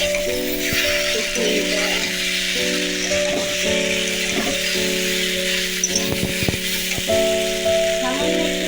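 A paste of ginger, tomato, onion and cumin sizzles in a hot pan while cooking a potato and papaya curry. A steady, loud frying hiss carries occasional stirring rattles and an underlying hum.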